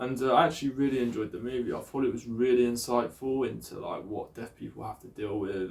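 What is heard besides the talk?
None of the usual background noises is heard.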